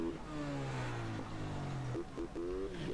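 A motorcycle engine in GTA revs and changes pitch in short rising and falling bursts, loud and close, with no talk.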